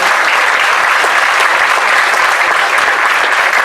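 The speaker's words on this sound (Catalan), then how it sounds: "Un aplaudiment." Sustained, dense applause from a lecture audience at a Catalan conference series on European peoples, steady and fairly loud throughout with no talk over it.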